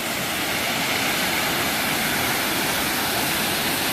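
Khlong Nam Lai waterfall in Khlong Lan, Kamphaeng Phet, pours with a constant, dense roar of rushing water, loud and unbroken throughout.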